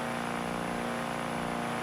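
Huge 18-liter diesel V8 swapped into a police car in BeamNG Drive, revving with a steady, dense engine roar that holds loud and close throughout, a constant high whine running over it.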